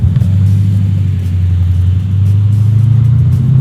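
A V8-powered 1972 Datsun 240Z rumbles loud and close with a steady deep exhaust drone, the engine note climbing slightly toward the end; no voices.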